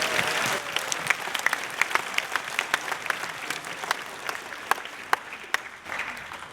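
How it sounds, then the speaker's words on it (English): An audience at an eighth grade awards ceremony applauds the award recipients, a dense, steady clapping that thins toward the end into a few louder, scattered claps. "Another round of applause to all of our award recipients."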